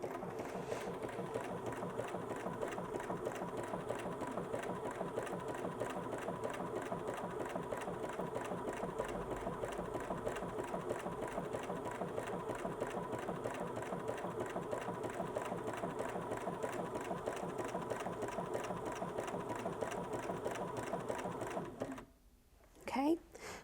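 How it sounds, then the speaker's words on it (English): A Bernina S-325 sewing machine stitching in a fast, steady mechanical chatter for about twenty seconds, close up, then stopping abruptly, with a voice speaking over the running machine. "So now I'm going to sew down here and stop it when I get to my starting point."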